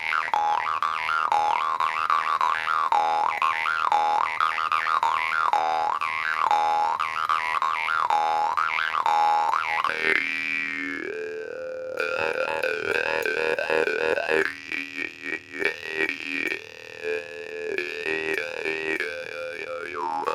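A jaw harp played live, its twanging drone bending through shifting vowel-like overtones in a steady rhythmic pattern, then changing to choppier, pulsing figures partway through, close and loud with no talking.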